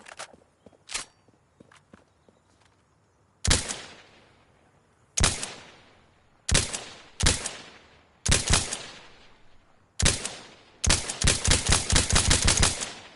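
Gunfire crackles through a video game firefight: a few scattered shots early on, then loud separate bursts of automatic fire, ending in a rapid sustained volley.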